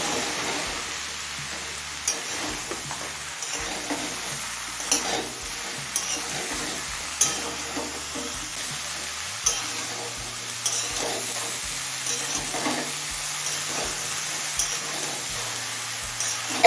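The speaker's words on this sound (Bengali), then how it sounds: "ঝিঙেটা দিয়ে সব কিছুর সাথে মিশিয়ে নিয়েছি" Ridge gourd stir-fried with spices in a pan over medium flame gives a continuous crackling sizzle, broken by regular soft scrapes and knocks of a spatula mixing everything together, close and steady throughout.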